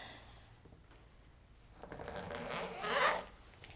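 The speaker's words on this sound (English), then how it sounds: "Take the cellophane off here." Crinkly cellophane wrapping is rubbed and pulled off a Paul Rubens Haiya pastel set, building from soft rustling to a louder, close tearing crackle near the end.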